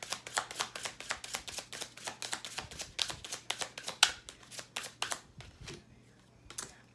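Tarot cards being shuffled close up, a quick run of about two dozen crisp riffling slaps in steady rhythm that slow and thin out toward the end, against a faint low hum.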